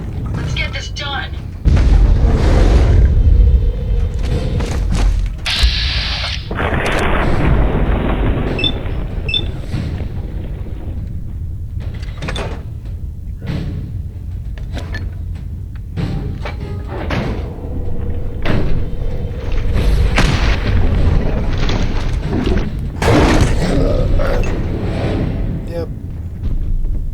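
A missile explodes in Fallout 4, with loud booming blasts and crashing impacts among continuous combat noise while a player talks over the action.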